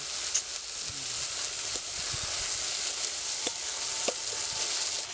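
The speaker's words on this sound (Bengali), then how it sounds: "আবারও ভালো করে মশলাটা আমার কষাতে হবে।" Spice masala with turmeric and chilli powder being sautéed in a pan, a steady broad sizzle with scattered soft clicks and stirring scrapes, close and continuous throughout.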